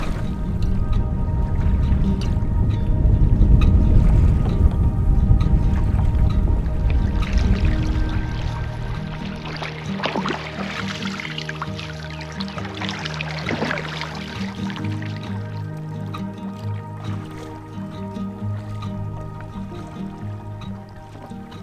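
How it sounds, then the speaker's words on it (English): Choppy wind-driven waves slosh and splash against a canoe hull while paddling, with dense close watery churning and dripping that thins into softer lapping. "there's a pretty strong breeze. It's actually whipping up a fair bit of chopping, some little waves."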